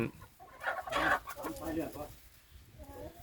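Gosem-line gamefowl hens cluck in short, throaty bursts close by, with a louder flurry in the middle, then fading to softer murmuring.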